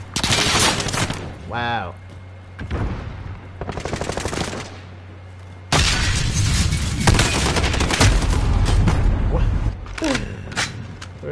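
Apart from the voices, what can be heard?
assault rifle gunfire in the video game Call of Duty Modern Warfare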